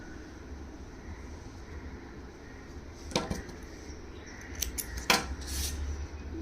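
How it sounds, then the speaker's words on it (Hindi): Scissors snip off the leftover yarn tail on a small crochet lavender leaf, two or three close, crisp cuts standing out briefly against a quiet room hiss with no talking. "पार्ट को कट कर देंगे।"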